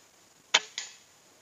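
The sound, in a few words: air rifle shot with suppressor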